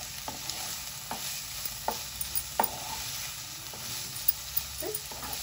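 Chicken stuffing with vegetables stirred and cooked in a pan, a steady soft sizzle with scattered scraping taps of a spatula throughout, close and moderate, no voices.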